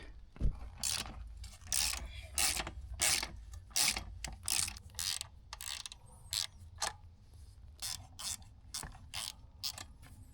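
A ratchet adjusting the chain on a cheap used Honda dirt bike clicks in a run of short, sharp bursts, close and distinct, with brief pauses between strokes and no voices.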